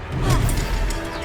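Confringo fire-blast spell from Hogwarts Legacy bursting with a loud, dense crashing roar that swells and sustains for about a second, rough and explosive throughout.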